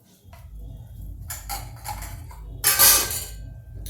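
A plate is set down among dishes in a home kitchen while pumpkin parathas are being made, giving a few light clinks and then one sharper, brighter clatter, close and fairly quiet.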